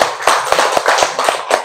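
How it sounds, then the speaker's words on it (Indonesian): A class claps for group 3 in a steady, quick rhythm of hand claps, close and fairly loud, lasting under two seconds with no voices. "Silakan tepuk tangan dulu untuk kelompok 3."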